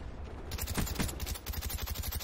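Rapid bursts of gunfire in the game Call of Duty: Black Ops crackle in a quick, steady rhythm, loud and continuous for about two seconds, with no voices.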